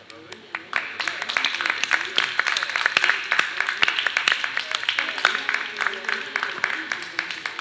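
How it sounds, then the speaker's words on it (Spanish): An audience at an arts university event claps for several seconds, a dense crackle of many hands with sharper individual claps standing out, holding a fairly even level before easing slightly. "entonces vamos a aplaudir."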